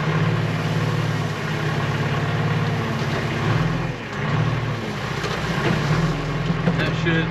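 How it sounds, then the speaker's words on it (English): A backhoe engine runs at a steady idle-like drone while spreading gravel at a farm cabin site, with low rhythmic rumbling that dips briefly midway before resuming. "I'm going to take the backhoe here and put a little bit of gravel in here"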